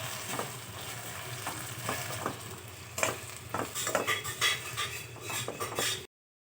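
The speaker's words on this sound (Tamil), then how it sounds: "முருங்கைக்கீரை நல்லா வதக்கி விட்டுக்கலாம்" Drumstick leaves and unpeeled garlic being sautéed in a pan, a steady close sizzle broken by repeated scrapes and taps of a spoon stirring, no voices.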